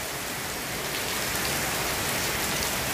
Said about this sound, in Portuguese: segundou com a chuvona maravilhosa